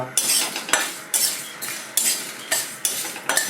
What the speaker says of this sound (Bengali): অল্প মেথি ভেজে নেব দুটো শুকনো লঙ্কা